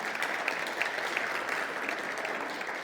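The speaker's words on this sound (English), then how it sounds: "I didn't expect applause there" Applause from an audience at a talk on dying rivers and sediment pollution in the Southern Highlands, a dense even patter of many hands continuing throughout at moderate distance.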